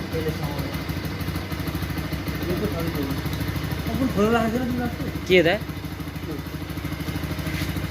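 A restored Bajaj Pulsar NS 200 motorcycle idles steadily at close range, its engine hum running throughout with a brief louder rev near the middle, while people talk over it.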